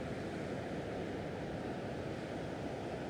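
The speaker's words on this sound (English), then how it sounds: "to hear the waves" Ocean surf breaking on a beach, a steady unbroken wash of roaring water with a faint wind rumble, holding even and continuous throughout with no voices.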